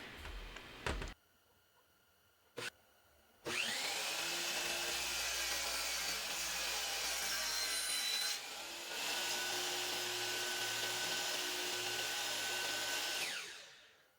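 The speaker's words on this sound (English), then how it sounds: "So now I'll go over to my miter saw and chop them up" Nearby, a miter saw whirs up and slices through small pieces of wood for mitered desk caddy corners, two sustained cuts with a brief dip between them, preceded by a few sharp knocks.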